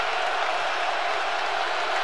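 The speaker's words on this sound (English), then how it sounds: "Crowd screams for another stop on defense." A college basketball arena crowd at a Kentucky at Georgia game roars steadily, thousands of voices screaming together in a dense, constant wall of noise for a defensive stop.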